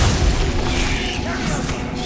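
Glacius freezing spell cast in Hogwarts Legacy, a loud crackling, booming magical burst with icy hiss amid dense game combat noise.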